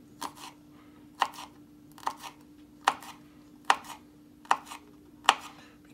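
A knife thinly slices a bell pepper on a cutting board in seven evenly spaced crisp cuts, each a sharp crunchy tap about a second apart, close and clear, with a faint steady hum behind and no talking.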